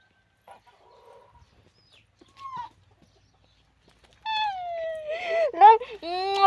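After a mostly quiet start with a few faint sounds, hens cluck and squawk loudly up close in a run of rising and falling calls.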